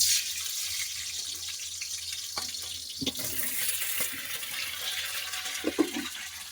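Potatoes going into hot oil in a wok, a steady hissing sizzle with watery, bubbling texture throughout and a few louder clatters and splashes near the middle and end, with no speech.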